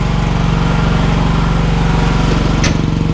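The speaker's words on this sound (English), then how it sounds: "It sounds just like a riding mower," An AGT L12R mini excavator's small engine runs steadily and loudly nearby, a constant buzzing drone much like a riding lawn mower, with no pauses.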